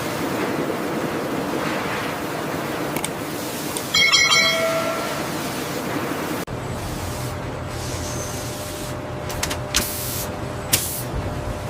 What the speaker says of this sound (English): hundreds of high-pressure water jets to blast the tangerines clean